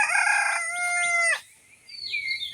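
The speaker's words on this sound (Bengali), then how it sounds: "মুরগি ডাকছে, মোরগ ডাকছে।" A rooster crows loudly and close by in a Mymensingh village, a long stretched call that breaks off sharply, followed by fainter higher calls from hens.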